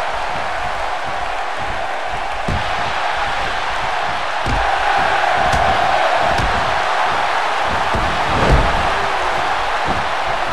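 A wrestling arena crowd roars and cheers through a tournament match, a broad continuous din with a few sharp thuds and a swell toward the end.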